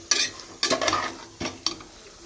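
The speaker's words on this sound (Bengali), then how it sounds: "বড় প্রেশার কুকারে আমাদের জন্য মাংসটা কষানো হচ্ছে" Meat is braised in a large pressure cooker, with short bursts of stirring and scraping against the pot over a soft sizzle, four or five distinct strokes close by.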